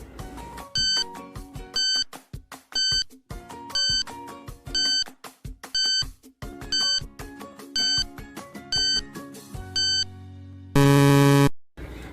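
Repeated electronic beeps from a quiz countdown timer, sounding in a steady pulsing pattern of short high tones for about ten seconds and ending in a long, loud buzzer tone, with no talking.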